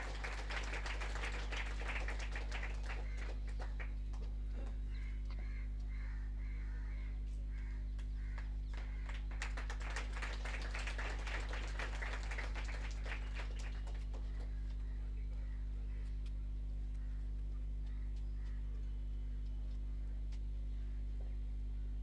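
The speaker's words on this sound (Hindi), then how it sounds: "तालियों के साथ इनका अभिनंदन हो।" Applause for a top-ranked police recruit cadet at a graduation ceremony in Lucknow, broad crowd clapping heard at a distance in two swelling waves over a steady hum, with birds cawing faintly.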